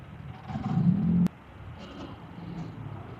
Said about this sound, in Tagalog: Grabe din talaga traffic dito.